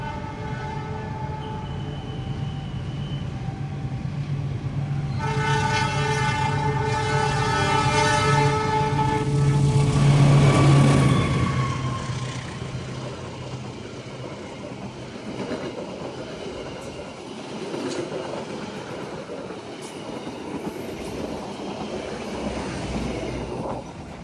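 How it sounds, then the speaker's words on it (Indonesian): A Pasundan economy passenger train rolls along with a loud, constant rumble of wheels on rails. Rising tonal horn or whistle notes swell in the middle, followed by steady clattering and squealing running noise, heard from on board. "Kereta api Pasundan yang saya naiki"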